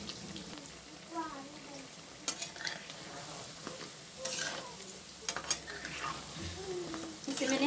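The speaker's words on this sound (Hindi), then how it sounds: "ऐसे ही फ्राई करेंगे" Paneer cubes fry in a pan, a steady low sizzle with occasional scraping and stirring clatter, under a soft, intermittent voice.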